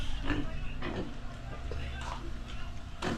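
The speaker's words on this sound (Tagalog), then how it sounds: "bagong dating pa lang na baboy yan ah" Newly arrived pigs on a farm grunt and oink in several short bursts, close and moderately loud, over a steady pen background.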